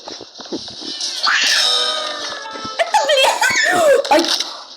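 Cartoonish meows and mewing cries of a cat in a video game, several in succession, with laughter-like vocal sounds mixed among them, close and fairly loud.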